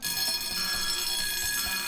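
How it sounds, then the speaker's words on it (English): A motion sensor alarm on a high-tech fingerprint lock sounds continuously, a shrill steady high-pitched electronic tone with a harsh buzzing edge, loud and close, holding without pause. "his body heat is picked up by the sensor, and the alarm starts to sizzle"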